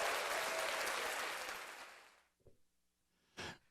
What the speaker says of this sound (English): let me give you applause for that one